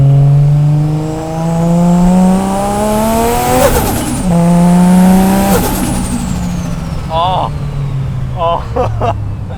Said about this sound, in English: I just love the sound of an RB.